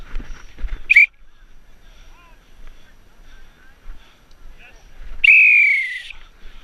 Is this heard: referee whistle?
yes